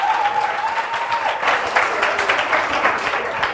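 Loud, sustained applause from a church congregation at a Full Gospel tabernacle service, dense clapping filling the whole stretch with a faint tonal whistle or hum early on.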